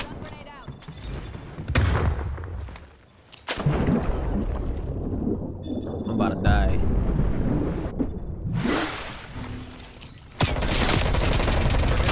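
Gunfire in the video game Call of Duty: Black Ops Cold War, loud bursts and rattling volleys that come and go in clusters, with a voice speaking between the shots.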